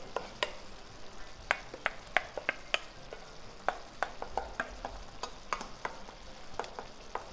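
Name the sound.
stirring ricotta romana with cooking oil into a paste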